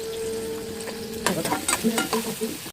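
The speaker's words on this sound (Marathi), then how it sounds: "त्याच्यामध्ये आपण बारीक चिरलेला मोठा कांदा टाकून घेऊया। बारीक गॅसवर थोडा लालसर परतवून घेऊया।" Finely chopped onion fries in oil over a low flame, giving a steady close sizzle with a burst of stirring and scraping clatter in the second half; no voices.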